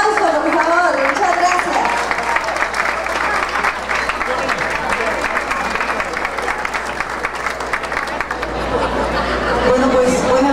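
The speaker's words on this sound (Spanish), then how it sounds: "Un aplauso, por favor" An audience applauds at the Micrófono de Oro awards ceremony, a dense, steady clapping from a large crowd with some chatter mixed in, lasting throughout and swelling slightly near the end.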